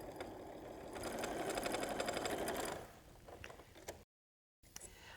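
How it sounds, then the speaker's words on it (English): Sewing machine stitching a quilt seam at a quarter-inch allowance, a fast rhythmic whirring run for about three seconds, then stopping into quieter handling noises. "I'm going to take it right here to my sewing machine."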